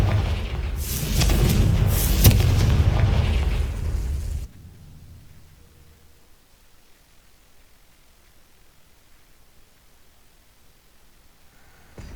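The Confringo blast spell in the video game Hogwarts Legacy erupts as a loud, rumbling explosion lasting a few seconds, then cuts off abruptly into quiet background ambience.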